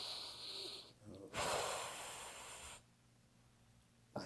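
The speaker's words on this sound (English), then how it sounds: "Breathe in." A chiropractic patient draws a loud, breathy inhalation mid-treatment, close to the mic, followed by quieter room tone and a brief sharp sound at the end.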